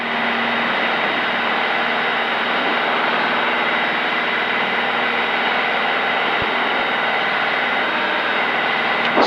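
Steady, loud drone of a Piper PA-28's propeller engine at full throttle as the airplane lifts off and climbs, a continuous roar with no talking.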